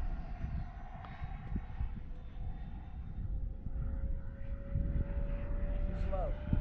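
Two 90mm RC F-22 Raptor model jets flying in formation at full throttle, a steady rushing roar with a rising whine as they pass overhead, heard continuously under talk.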